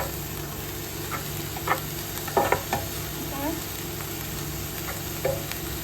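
A Kerala-style lettuce and chicken stir-fry sizzles in the pan while being stirred, a steady frying hiss broken by a few scraping spatula strokes, close and moderately loud.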